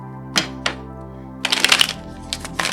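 A few quick riffling bursts of cards being shuffled, with soft taps before, heard over a steady low hum.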